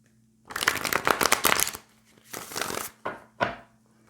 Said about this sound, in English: Need a shuffle here.